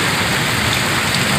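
Heavy rain pours down in a dense, loud, unbroken roar of drops hitting surfaces nearby.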